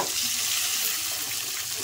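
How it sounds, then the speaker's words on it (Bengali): Ridge gourd and partly fried potatoes sizzle in a pan of hot oil, a steady hissing fry that stays even throughout without any talk. "এবার আমি একে একে সবজিগুলো দিয়ে ভালো করে ভেজে নেব।"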